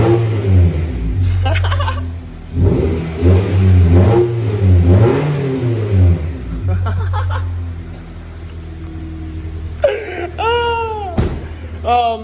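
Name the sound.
straight-piped Honda CR-V engine revving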